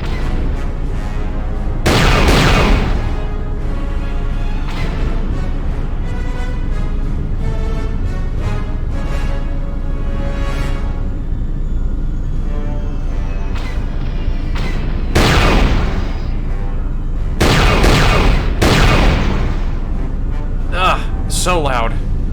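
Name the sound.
turret gunfire in Knights of the Old Republic 2 video game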